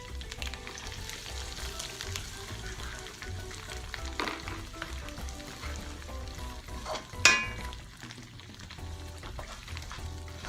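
Onions fry and brown in a pan with a steady soft sizzle, broken by an occasional scrape or clink of stirring and one brief louder clatter.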